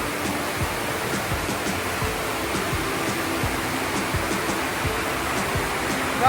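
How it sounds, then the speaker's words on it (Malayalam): Water falls forcefully inside Odakolly cave in Kasaragod, making an unbroken, roaring broadband rush that stays steady and loud from start to finish. "നല്ല ശക്തമായിട്ടാണ് വെള്ളം"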